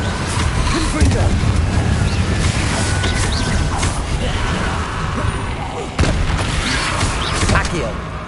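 Confringo blasting spells explode during combat in the video game Hogwarts Legacy, booming hits set in a dense, loud wash of continuous battle noise and effects.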